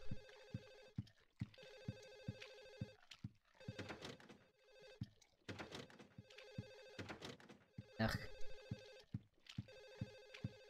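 A telephone rings repeatedly in the video game Silent Hill 4: The Room, bursts of electronic bell tone in a steady on-off pattern with sharp ticks between, fairly faint, with a brief sigh from a person partway through.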